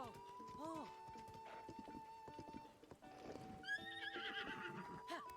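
A horse in the Zelda: Tears of the Kingdom video game whinnies loudly several times, with hoof clip-clops and stable ambience underneath and game effects layered in.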